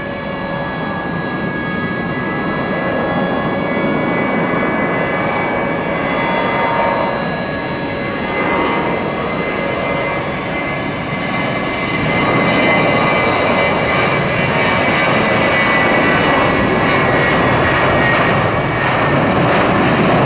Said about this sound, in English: That Delta needs to start its engines at the gate.